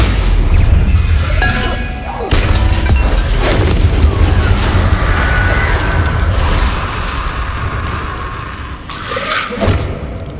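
Magic spells striking in Hogwarts Legacy: loud booming impacts and crashing, shattering bursts one after another over a constant roar, with a sharp burst near the end.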